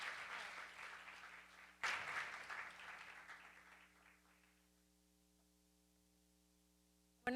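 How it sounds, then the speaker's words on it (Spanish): An audience at a talk on women in the economy claps in a sustained round of applause that swells again after a brief dip, then fades out into a quiet electrical hum. "de nuevo les pido un muy fuerte aplauso para Betsabe Rocha, secretaria de Desarrollo"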